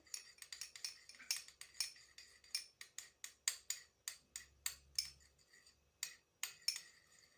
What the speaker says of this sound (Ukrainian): перемішую його з водою